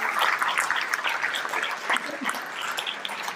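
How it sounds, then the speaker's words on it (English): An outdoor audience at a village groundbreaking ceremony claps for an honored guest and his son, a lively burst of scattered applause that stays fairly loud for a few seconds. "So will you give Clarence Hawkins and his son a round of applause?"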